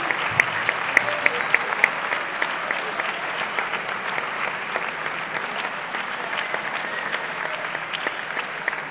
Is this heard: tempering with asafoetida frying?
no